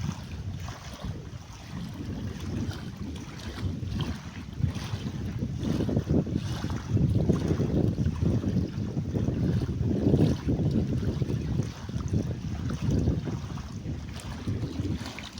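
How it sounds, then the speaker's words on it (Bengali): Tidal water at high tide rushes and washes continuously near boats, with wind buffeting the microphone and the surge swelling louder through the middle; no one speaks. "এই জলের শব্দটা শুনতে খুব ভালো লাগে।"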